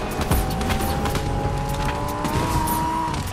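In a video game, a car engine drones continuously, loud and close, with revving tire squeals and skidding throughout, no talk.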